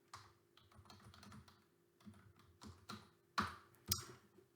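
Quiet, close computer keyboard typing comes in short bursts of keystrokes with brief pauses, ending in a couple of sharper, louder key presses.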